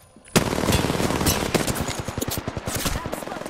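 Rapid automatic gunfire in the video game Apex Legends, a loud sustained burst of close shots in a fast even rhythm, with a brief lead-in before the firing starts.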